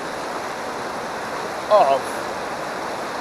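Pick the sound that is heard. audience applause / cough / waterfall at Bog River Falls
waterfall at Bog River Falls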